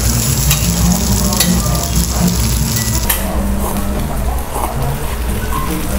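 Miyazaki beef fat, cut small, crisping on a grill at an all-you-can-eat restaurant, with loud, continuous sizzling and crackling that carries on steadily.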